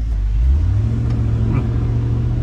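A car that was just repaired after catching fire pulls away with a steady low engine rumble that rises as it accelerates, close and continuous with no talk.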